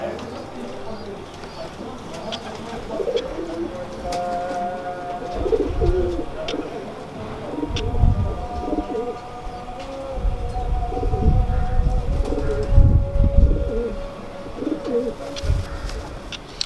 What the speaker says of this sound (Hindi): और चोटीदार इमामदीन कबूतर थे हमारे पास ना, अभी भी बल्कि हैं